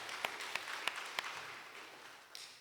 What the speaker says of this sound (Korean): 한번 박수 한번 할까요?